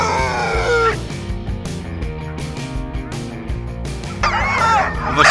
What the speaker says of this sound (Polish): zostawiając psy w uprzężach, które zaczęły po prostu szaleć i dopraszać się